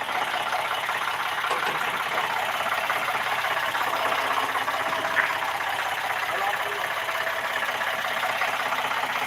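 A farm tractor engine runs steadily throughout, a continuous mid-pitched drone with some knocking vibration, while people talk over it on a drive from the fields back home.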